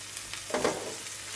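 Green peas for a paratha filling hit a hot pan, giving a brief burst of sizzle at mid-clip over a faint background hiss.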